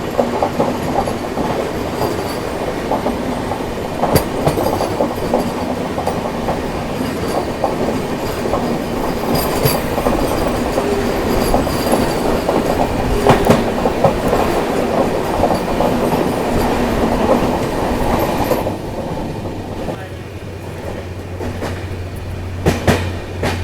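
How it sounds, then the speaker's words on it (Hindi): Ride aboard a festival special train running at speed as it passes a Vande Bharat train, with a loud continuous rumble and rhythmic clickety-clack of wheels on rails, the roar easing near the end. "और लीजिए पहली क्रॉसिंग वंदे भारत के साथ।"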